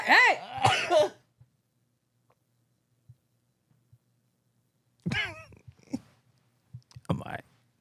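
A person coughs and clears their throat in two close, harsh bursts, the first about a second long and the second a longer spell, separated by a quiet stretch with a few faint small noises.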